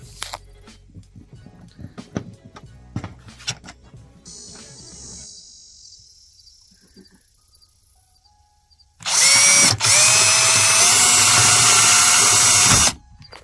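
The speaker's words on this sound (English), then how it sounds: "I'm just going to drill into the house here." A power drill bores into the exterior wall of a house to mount a Philips wireless doorbell, a loud steady whine lasting about four seconds after quieter handling noises and brief rustling.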